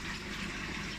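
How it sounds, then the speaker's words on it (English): Aquarium water pump pushing water up through a ceramic-tube sterile filter rig for phytoplankton culture, a steady close rushing gush of moving water held at an even level throughout, with no voices. "you've got a pump down there which is pumping the water up here"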